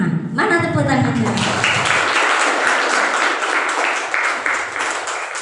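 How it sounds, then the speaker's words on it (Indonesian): Audience applause at an Islamic religious talk on the virtues of silaturahim, a steady wash of many hands clapping that lasts several seconds after a brief voice at the start. "Mana tepuk tangannya?"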